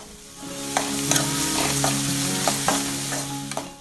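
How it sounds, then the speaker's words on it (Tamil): Onions with garlic sauté in a pan with a loud, close sizzle. Sharp spatula scrapes and clicks recur every half second or so, with no voices. "இந்த வெங்காயமும் பாதி அளவு நல்லா வதங்கட்டும்."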